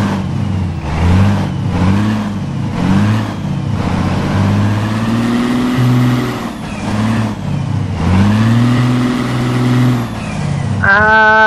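A Scania P360 truck engine runs in the Euro Truck Simulator 2 driving game, loud and close, with repeated revving swells and a bright electronic tone near the end, with no talk.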